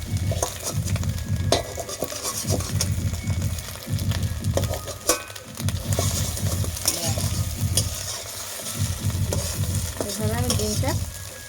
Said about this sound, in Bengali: এইভাবে ডিমটা পিস পিস করে ভেজে নিতে হবে